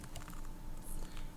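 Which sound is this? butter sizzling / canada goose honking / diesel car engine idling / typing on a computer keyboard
typing on a computer keyboard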